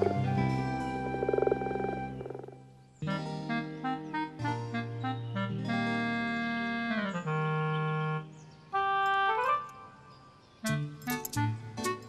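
Frogs at a garden pond give a run of croaks and ringing calls. Some are long and drawn out, others short and bursting, with brief pauses between them, and all are close and clear.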